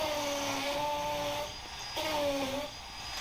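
A power drill fitted with a 6mm bit bores through porcelain tile into the plasterboard and brick behind it, giving a close, steady motor whine that dips briefly and then resumes for a second run.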